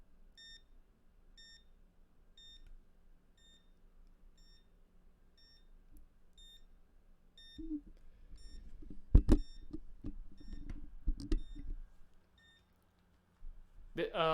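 Game & Watch Gold Series handheld alarm sounding as a plain, faint high beep in regular short pulses for several seconds, then stopping as louder clicks, bumps and handling noises take over.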